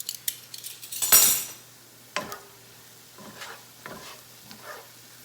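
Spices for butter chicken being stirred in a pan, with a few sharp utensil scrapes and clinks against the pan over a soft sizzle, close and alone without talk.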